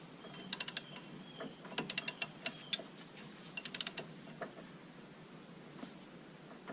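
Nuts being tightened on Kubota tractor wheel spacers, faint rapid ratcheting clicks in short bursts separated by pauses, quiet and close, with no talking.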